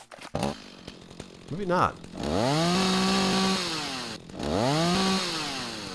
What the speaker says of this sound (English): I could have sworn it took him 3 tries to turn the chainsaw on